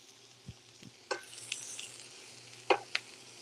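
Pork chops browning in a frying pan for a pork chops and apples dish, with quiet intermittent sizzles and a few soft stirring or utensil clicks over a low steady hum.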